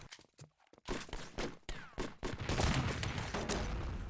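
Rifle shots fired in Wolfenstein: Enemy Territory during a 6v6 LAN tournament match, sharp close cracks in a quick aggressive burst amid dense game noise.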